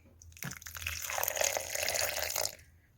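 Water is poured into a mixer jar for grinding chutney, a close splashing pour that builds quickly, runs for about two seconds and then stops.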